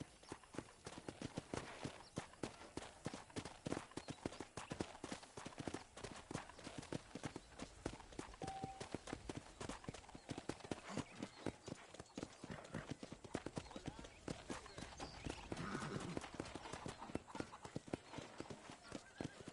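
A horse gallops in Red Dead Redemption in a steady, rapid hoofbeat rhythm that continues throughout, with a brief whinny partway through.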